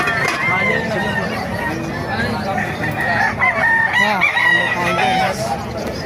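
A rooster crows amid a noisy outdoor crowd at a chicken market in Bocaue, Bulacan, with chatter and babble of many people around it.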